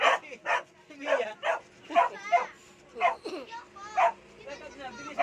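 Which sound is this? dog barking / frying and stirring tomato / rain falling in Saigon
dog barking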